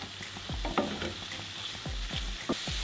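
Mushrooms and peas fry in sunflower oil in a pan, a soft steady sizzle broken by several quiet scraping stirs of a utensil, close up and with no talking.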